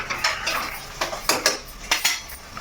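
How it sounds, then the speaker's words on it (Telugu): Chicken is added to fried onions in a metal pot, with several close clanks and scrapes of a utensil against the pot in an irregular rhythm and no talking. "ఉల్లిపాయలు వేగిపోయి ఇప్పుడు చికెన్ వేసేస్తున్నాను."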